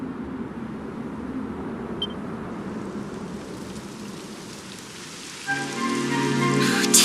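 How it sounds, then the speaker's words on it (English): Steady rain patters in a video game, a dense even hiss that continues throughout, joined near the end by a brighter tonal chime or melody. "Typical. It would have to go and start raining, wouldn't it?"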